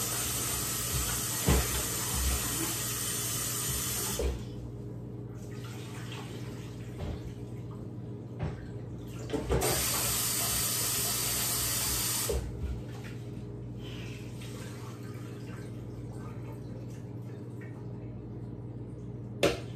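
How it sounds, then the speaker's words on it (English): Running water pours steadily from a faucet while jasmine rice is washed, the flow cutting off and resuming in several bursts of a few seconds each. "I will go ahead and wash my rice."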